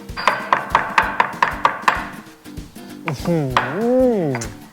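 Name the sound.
pounding cumin seeds in a mortar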